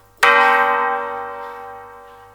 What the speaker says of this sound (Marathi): फक्त घंटा वाजतायत.